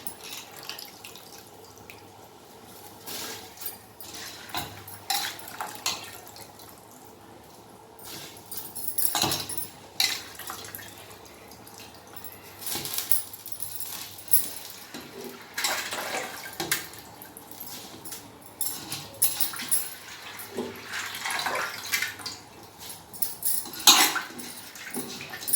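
Rice goes into a pot of boiling water and is stirred, with repeated clinks and scrapes of a utensil against the pot over bubbling, splashing water, and no talk.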